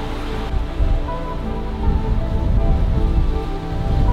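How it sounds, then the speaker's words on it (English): Heavy torrential rain on a VW California camper van in Brittany, a dense continuous roar of drops drumming on the roof, loud and unbroken throughout. "it has been torrential rain"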